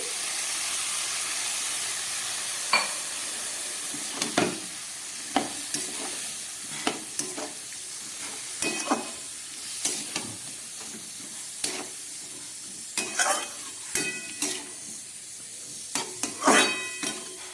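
Cabbage sizzles and hisses in a hot pan after a small splash of water, with steady frying hiss under repeated sharp stirring scrapes and clatters of a spoon against the pan, fairly close and with no talk.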